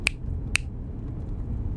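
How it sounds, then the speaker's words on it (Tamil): Two sharp, close finger snaps about half a second apart, crisp and distinct against a low background hum, followed by faint quieter snaps. "வேணும்னா இன்னும் 4 சொடக்கு போடுறேன்"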